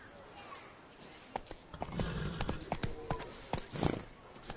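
Roach, Geralt's horse in The Witcher 3 set in Beauclair, clip-clopping along with hoof beats growing louder and more distinct midway, mixed with game ambience and a voice speaking briefly.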